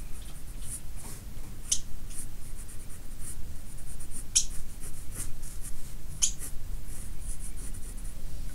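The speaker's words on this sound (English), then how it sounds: "Let me put the microphone closer so you can hear me draw, hear the pencil." Pencil drawing on paper close to the microphone, continuous scratchy strokes and light taps with occasional sharper ticks, steady and intimate, with no one speaking.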